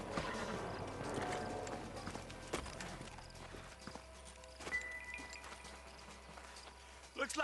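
Horses' hooves clip-clop in Red Dead Redemption on PS3 as riders slow to a halt, an uneven run of clear hoofbeats over quieter game ambience that thins out toward the end.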